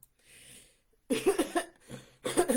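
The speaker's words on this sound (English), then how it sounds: "Every time I use my inhaler, I cough first in the morning time" A soft breathy sound from using an inhaler, then three sharp, close coughs in quick bursts, fairly loud against a quiet room.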